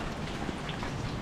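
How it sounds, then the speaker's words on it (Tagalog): Heavy, steady rain pours down in a dense, even hiss of countless drops with no pauses and no voices. "Puro ulan na yata."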